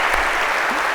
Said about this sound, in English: a big round of applause, if we could,